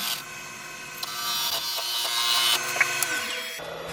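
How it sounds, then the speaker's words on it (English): A woodturning lathe parts off the bottom of a wooden leg, a steady broadband whirr and scraping hiss of the tool cutting the spinning wood, close and continuous, stopping abruptly near the end. "Just parting off the bottom of the leg now."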